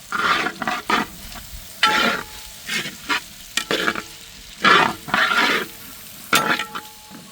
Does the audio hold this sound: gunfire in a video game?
no